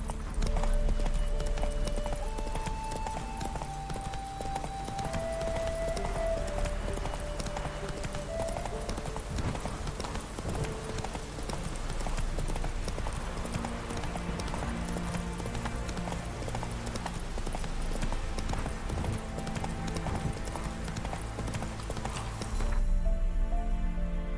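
Roach the horse trots along in The Witcher 3, steady clip-clop hoofbeats repeating close by over a dense game music bed, with no one speaking.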